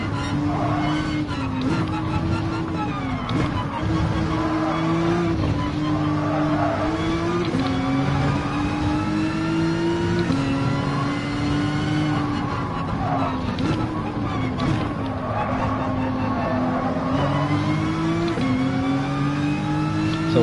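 Nissan GT-R race car in Gran Turismo Sport, its engine note climbing repeatedly through the gears with brief dips at each shift, loud and continuous, with occasional tyre noise.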